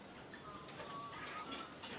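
Pigeons cooing softly in a loft of Teddy pigeons, faint low coos with a few brief higher calls over quiet background hiss.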